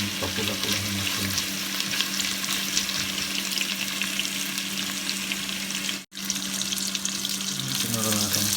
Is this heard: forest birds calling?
no